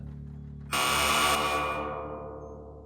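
A loud, harsh electric alarm bell in a prison, produced as an audio drama effect, bursts on abruptly after a quiet hum, rings steadily for about a second, then slowly fades.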